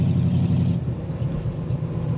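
A steady, loud engine rumble from a 1933 Plymouth 5-window coupe street rod cruising after a downshift to a lower gear, deep and throaty with a continuous drone.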